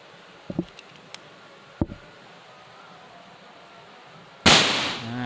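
A single sharp, loud Mauser air rifle shot cracks near the end, preceded by a few faint clicks and handling knocks against quiet outdoor background noise.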